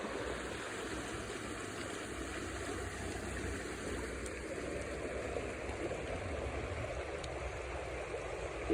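A river flows past a campsite, a steady, broadband rushing murmur that stays even and moderately distant throughout, with no talking.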